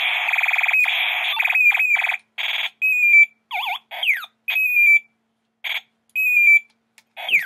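A toy bomb gives off a synthetic electronic alarm: a steady warbling beep at first, then broken into short chirps, falling sweeps and blips with gaps between, fairly close and alone.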